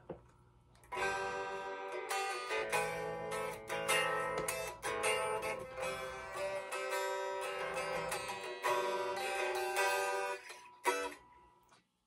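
A 1966 Epiphone Custom Shop SG electric guitar is strummed unplugged, giving thin, bright, quiet string chords with a fast, steady rhythm and a few pauses, close and alone.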